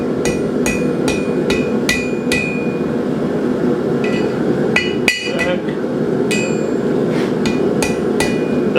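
A blacksmith hammers a bottle opener loop over the horn of an anvil, striking a steady series of ringing metallic blows, some in quick doubles, over a low background hum.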